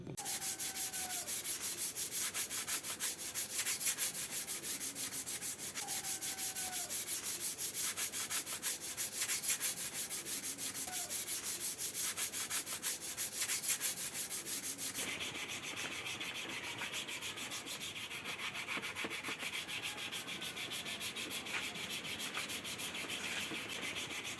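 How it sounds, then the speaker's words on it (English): Steady, continuous abrasive rubbing of sanding body filler on a hard surface of a Duke motorcycle kit, fairly close, with occasional faint chirps in the background; the tone shifts slightly partway through. "the body filler is applied where the areas which required and sanding process is ongoing"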